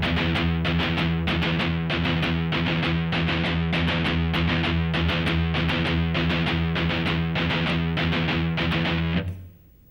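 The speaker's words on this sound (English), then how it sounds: "you'd have a continuous sounding riff that would sound like this" Distorted electric guitar riff of steady, continuous down-up-down picked triplets with left-hand muting, played evenly and loud for about nine seconds before ringing off.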